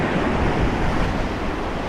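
Rough ocean surf breaks on a beach where someone is casting for snook, a loud, continuous roar of waves mixed with buffeting wind noise on the microphone.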